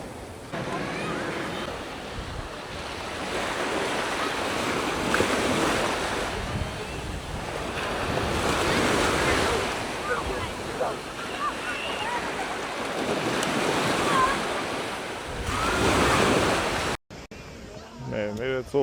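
Sea waves rush and break on a beach in steady, loud, broadband washes, with wind buffeting the microphone throughout and a sharp cut near the end.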